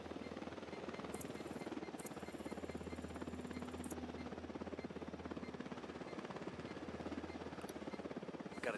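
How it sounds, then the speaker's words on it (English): A helicopter approaches in the Ghost Recon Wildlands video game, its rotor chopping in a fast steady pulse with a low drone, sustained throughout at a moderate distance, joined by brief high electronic tones. "Why is he coming in a helicopter"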